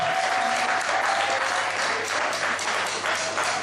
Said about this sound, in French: Applaudissez pour les frères s'il vous plaît.